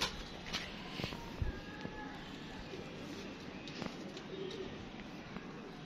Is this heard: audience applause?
no